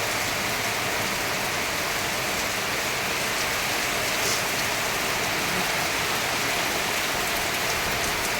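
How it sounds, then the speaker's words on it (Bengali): Steady, dense rain falls continuously, a loud even hiss with scattered drops pattering on surfaces, no voices. "দেখো বন্ধুরা কি সুন্দর হচ্ছে বৃষ্টি"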